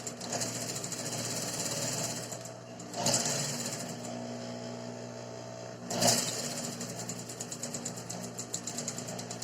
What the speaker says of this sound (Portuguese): Você vai esticar no limite dele e vai passar uma costura reta no meio.